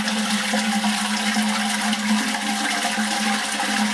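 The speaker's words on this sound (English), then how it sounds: "we're going to flush the toilet, and when it refills you'll see it filling back to the 9 litre water line" A household toilet flushes and refills its tank to a 9 litre water line, giving a steady close rushing of water that holds on throughout, with no talk.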